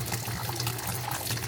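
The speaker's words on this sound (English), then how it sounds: "So we're gonna run the water for a couple minutes because it's not drinkable right now because we got a new filter." Steady broadband rush of water flowing from the tap of a 7-stage home drinking water purifier running after a new filter was fitted, continuous and close with no talk.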